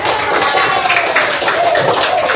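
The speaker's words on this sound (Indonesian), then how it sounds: "Sekarang beri tepuk tangan dulu untuk kelas 5B." A primary school class gives a short round of applause for class 5B, brief dense clapping heard alone at close range.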